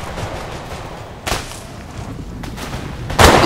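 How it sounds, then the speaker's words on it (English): In Empire Total War, musket infantry fire in platoon, sending out sharp scattered cracks at intervals, the loudest burst near the end, over a dull battlefield background. "These guys are over here firing in platoon."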